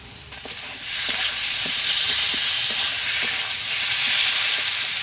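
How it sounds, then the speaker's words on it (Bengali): Spiced masala with cumin powder and chopped tomato frying in a pan, a steady bright hiss with occasional spatula taps and light stirring scrapes, near and continuous without any talking. "মশলাটা কষিয়ে নিব এবারে দিয়ে দিব টমেটো কুচি"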